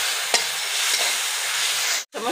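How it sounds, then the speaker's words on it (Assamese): Chicken masala frying in a pan sizzles steadily while a spoon stirs and scrapes it, with a couple of sharper clicks and a sudden drop near the end. "এতিয়া অকণমান ভালকৈ ভাজি দিম।"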